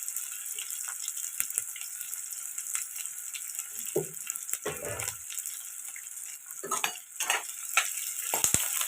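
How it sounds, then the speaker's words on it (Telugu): Chicken pieces fry in a pan, with a steady sizzle throughout and the scrape of a spoon stirring them at irregular moments, close up and with no talking. "ఇవి ఇప్పుడు ఇలా ఫ్రై అవుతున్నాయి కదండి"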